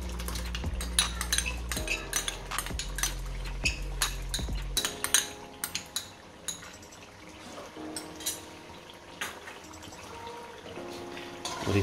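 A metal spoon clinks and scrapes against a karahi as yogurt is stirred into chicken karahi, with quick close strokes in a brisk rhythm, loud at first, then a short break before lighter stirring resumes.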